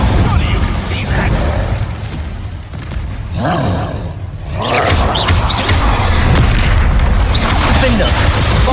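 Incendio fire spell cast in Hogwarts Legacy on PS4 Pro, a loud roaring burst of magical fire and rumbling effects filling the scene amid battle clatter and a shouted voice.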